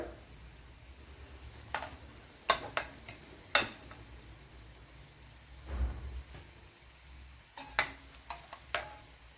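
Cauliflower and chana dal snacks frying in oil, a soft steady sizzle with scattered sharp clicks and taps of a utensil against the pan, close and fairly quiet, no talking.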